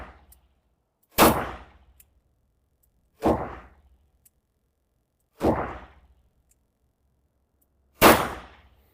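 Four sharp, loud revolver shots from an S&W 649 Bodyguard firing .38 Special rounds at 10 meters, spaced about two seconds apart, each a sudden broadband crack with a brief decaying tail, no talking.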